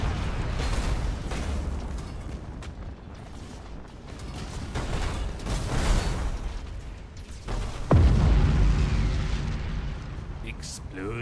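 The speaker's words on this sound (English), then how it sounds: "Explosions are great." Space battle explosions in Battlefleet Gothic: Armada 2, with rumbling blasts and mechanical clanking rolling under a speaking voice and a heavy boom landing near the end.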